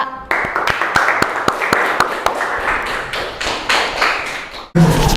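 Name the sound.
applause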